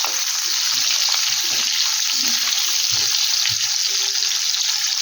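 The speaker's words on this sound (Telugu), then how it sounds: "ఫస్ట్ ఎండు చేప ఫ్రై చేద్దాం" Dried fish fry in hot oil with a loud, constant, dense sizzle that lasts the whole time, close up and without talk.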